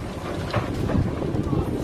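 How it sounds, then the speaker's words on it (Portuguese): Very strong wind roaring during a sandstorm, a dense, loud rush that buffets the microphone and surges in gusts throughout, with nothing else standing out. "Vento muito forte"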